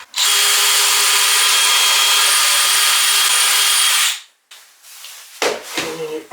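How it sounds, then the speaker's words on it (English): A fat-and-thin special drill boring diagonal holes through a metal jig, a loud continuous high whine for about four seconds, then stopping, followed by brief scraping and clattering handling noises. "you've got this special drill which is fat and thin, and then you go into the metal holes like so"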